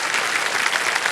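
Studio audience applause on a television quiz game show, a dense burst of many hands clapping together, steady and close throughout.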